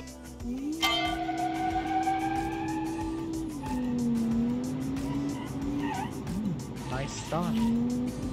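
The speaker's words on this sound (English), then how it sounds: "So let's see how this 288 horsepower engine will cope." A 288-horsepower convertible launches hard from a standstill, its tires squealing loudly at the start. The engine note climbs steadily through the gears, close and strong, with more tire squeal near the end.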